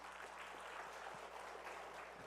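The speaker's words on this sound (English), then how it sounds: "give a round of applause to our amazing panelists" A panel audience at a business expo claps steadily in a dense, even wash of applause that holds at moderate level throughout, with no voices over it.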